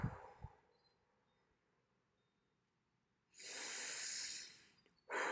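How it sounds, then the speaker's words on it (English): Close, loud breathing during a guided meditation: a short exhale at the start, quiet stillness, then a long, strong airy inhale followed by another breath beginning. "We're going to take 2 more breaths."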